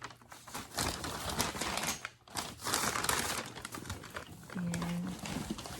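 Paper rustles and crinkles during the unboxing of Jimmy Choo x Timberland boots. Bursts of close, crisp crumpling come in uneven waves with short pauses.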